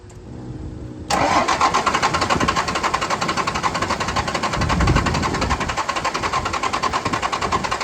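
A Dodge W350 with a 12-valve engine, once seized and flooded and left sitting for a decade, cranks for a moment, then catches and runs loud and close with a rough, rapid rhythmic clatter.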